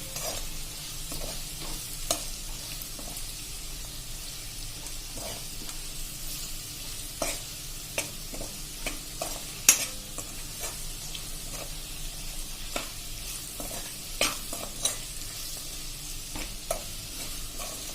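Chilli curry cooks in a pan over a low flame, giving a steady soft sizzle with occasional light stirring clicks, alone and without voices.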